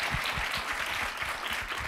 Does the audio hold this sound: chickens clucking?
no